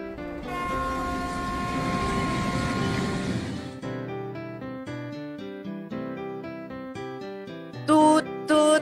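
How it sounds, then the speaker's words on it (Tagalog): A train sound for a children's lesson: a sustained, loud, horn-like tone that breaks into choppy, rhythmic tonal pulses, ending with two short, bright blasts. No voices. "Ingay ng isang tren."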